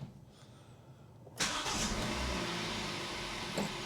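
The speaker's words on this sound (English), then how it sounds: "I'll fire the car up." The 1.2-litre petrol engine of a 2012 Kia Picanto cranks briefly and catches with a sudden burst, then settles into a steady close idle, with no one talking.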